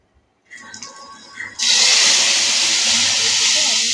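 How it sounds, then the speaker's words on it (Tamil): Quiet clatter gives way to a sudden loud, sustained sizzle as boiling sambar is poured into a pan of hot tempering, hissing steadily until the end. "இந்த தாளிப்பில் அந்த கொதிக்கிற சாம்பார் வந்து கொஞ்சோண்டு எடுத்து நம்ம ஊற்றிக்கலாம்"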